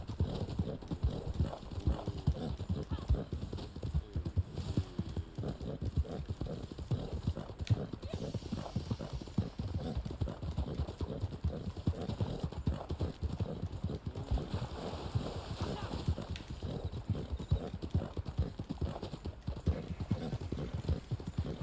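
Horse hooves clip-clop steadily in Red Dead Online as several horses ride toward a ranch, a continuous rhythmic clatter under someone talking, with occasional light snorts.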